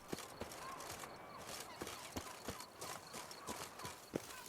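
Horse hooves clip-clop in a steady walking rhythm in The Witcher 3, a dozen or so crisp strikes at close range over faint background ambience.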